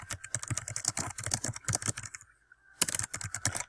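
Fingers type a caption on a computer keyboard in quick, crisp clicking bursts, close and clear, pausing briefly for about half a second before the tapping resumes.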